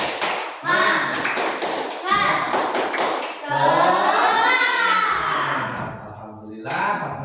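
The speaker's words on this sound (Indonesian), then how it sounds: "Coba tepuk semangat." Classroom of children performs a rhythmic clapping chant, sharp claps in quick patterned bursts mixed with loud children's voices chanting together, close and energetic.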